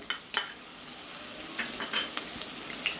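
Green chilli paste sizzles steadily in hot oil in a pan, with a few sharp clinks and scrapes from a stirring spoon against the metal close by.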